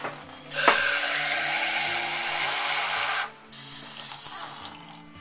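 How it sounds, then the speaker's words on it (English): Tap water pours steadily into a measuring cup at close range in a home kitchen, a broad rushing stream that stops briefly, then resumes for about a second. "And watch out, Joe, I'm going to get 2 cups of water here."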